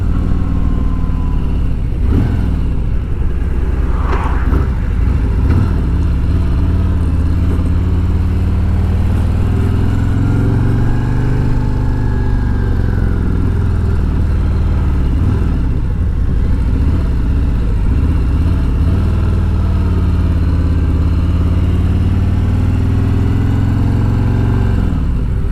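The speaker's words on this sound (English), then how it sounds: "Once again, this is the stock exhaust." A 2020 Harley-Davidson motorcycle with stock exhaust runs loud and close with a deep, steady rumble around 2,500 RPM, its pitch rising and falling gently as it cruises and shifts.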